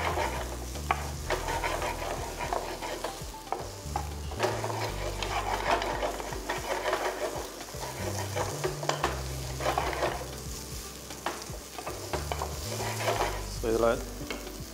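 Raw broccoli and mixed vegetables stir-fry briskly in a pan for peanut noodles, with a continuous close sizzle broken by repeated scraping and stirring strokes and light clanks of a utensil against the pan.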